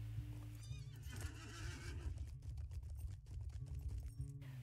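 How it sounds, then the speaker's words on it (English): Video-game horse mount being ridden: a loud whinny followed by rhythmic clip-clop hoofbeats at a galloping pace over a steady low rumble, close and continuous with no talking. "When you arrive in Othrakar, mount up and ride over and talk to Muli."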